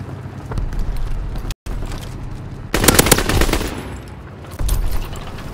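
Gunfire in the Call of Duty WW2 video game during a battle: steady background shooting, a brief dropout, then a loud burst of rapid machine-gun fire followed by continued shots.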